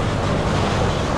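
An off-road vehicle splashes through dirty water on a snowy trail, with a loud, steady rush of sloshing water and wind-like roar filling the short moment, and no voices.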